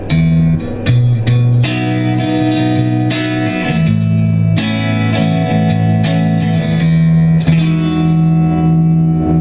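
Electric guitar through an overdriven Egnater Tourmaster 4100 tube amp with contour engaged at about 1 o'clock, chords and sustained notes ringing with a thick, scooped tone and light reverb, played steadily and fairly loud.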